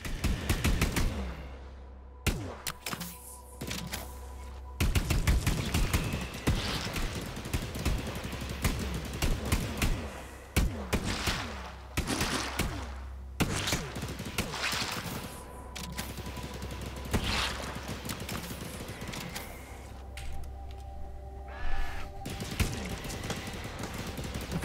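Gunfire in the video game The Anacrusis with friendly fire enabled: repeated bursts of rapid automatic shots and sharp single cracks, loud and close, separated by brief pauses, with a low hum underneath.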